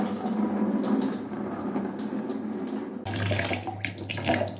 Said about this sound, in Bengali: ডালটাকে ভালো মতন ধুয়ে নেব।